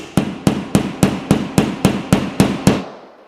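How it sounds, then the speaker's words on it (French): A pipe clip's plastic anchor being hammered into a drilled hole in a wall: ten sharp, evenly spaced hammer blows at a steady rhythm, close and loud, each with a short ringing decay, with no voices. "frappez sur la tête du collier pour faire rentrer la cheville dans le perçage"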